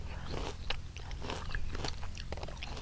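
Crisp pickled tamarind from a mixed pickled-fruit snack, eaten outdoors at a rubber plantation, gives close, repeated crunchy bites and chewing that run steadily through the whole moment, with no talking.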